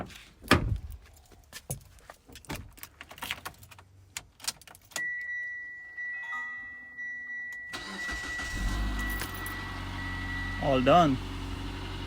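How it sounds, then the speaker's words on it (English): A car engine cranks and starts after new spark plugs are fitted, then settles into a steady idle that rises to fill the background; keys jangle and a door closes beforehand, and a voice speaks briefly. "Let's try starting the car."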